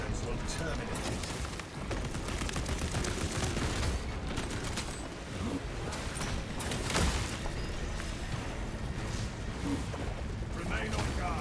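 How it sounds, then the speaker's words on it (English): Defensive cannons pound a Tyranid scourge tower in the Space Marine video game, a dense rolling barrage of heavy booms and mechanical clatter with speech mixed in throughout. "The defensive cannons will terminate it"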